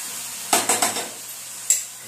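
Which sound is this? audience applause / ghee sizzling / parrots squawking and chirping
ghee sizzling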